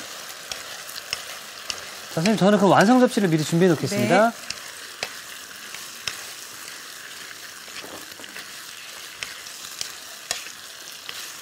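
Sausages and vegetables stir-fry in a pan, giving a faint, steady sizzle with occasional utensil clicks; a person speaks briefly over it partway through.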